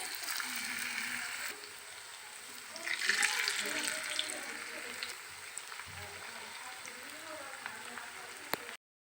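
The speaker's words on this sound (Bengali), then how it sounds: "বড়াগুলো আমি সেম প্রসেসে এখন ভেজে নিব" Cauliflower pakora fritters frying in hot oil give a steady close hiss and bubbling that swells briefly partway through, with a voice talking over it.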